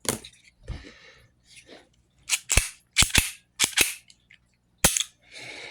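A Davis Industries P380 pistol's reassembled mechanism snapping on a tabletop: a series of sharp, close metallic clacks and clicks, several in quick succession with brief gaps, separated by softer handling rustles.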